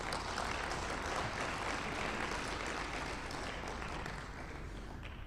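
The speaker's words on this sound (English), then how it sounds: "So I would say also an applause for them" Conference audience applauding the event organizers at a big data conference, a dense, steady wash of clapping from a large crowd that holds loud and even throughout, easing only slightly near the end.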